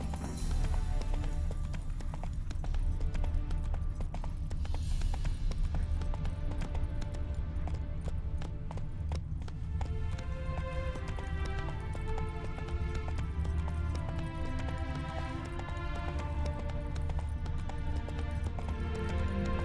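Horse hooves gallop in a rhythmic clip-clop throughout a ride in The Witcher 3 video game, loud and steady over game music and ambience.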